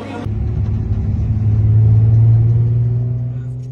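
A car pulls away onto the road toward the Col de Lure, its engine rumbling loud and close as it accelerates steadily, with no one speaking.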